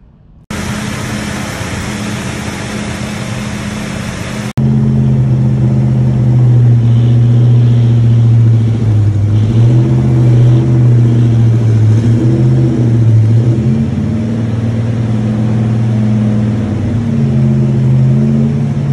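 A 1969 Plymouth Road Runner convertible's numbers-matching 383 V8 idles with a deep, steady rumble, then grows louder and rougher after a few seconds, revving up and down in repeated swells close to the microphone.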